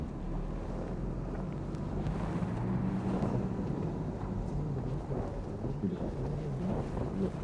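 A waterfall roars in a constant, deep rush that fills the air without pause, with some wind buffeting mixed in.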